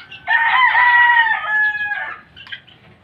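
Young gamecock stags give a short, strained crow close to the microphone, followed by a few brief clucks as it trails off.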